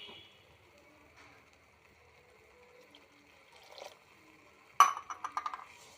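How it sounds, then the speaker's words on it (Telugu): A glass of water is poured into kurma curry, landing as a short, close splash and gurgle near the end after a quiet kitchen stretch with faint clinks. "ఒక గ్లాస్ వాటర్ తీసుకొని పోస్తున్నాను అన్నమాట దీనిలోకి"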